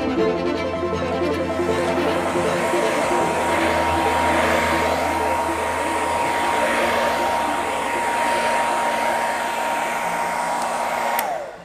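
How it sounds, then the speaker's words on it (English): A hair dryer blows continuously at close range to dry acrylic primer on a painted heart, a loud, steady whirring rush that holds for the whole stretch before cutting off at the very end. "just use your hair dryer to get a quick drying surface."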